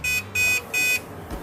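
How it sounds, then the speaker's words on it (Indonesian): Desktop computer beeping after power-on to signal a RAM fault: three long, even, shrill tones in a steady rhythm with short gaps, close and clear, then a soft thump. "lalu berbunyi beep ya, itu tandanya RAM"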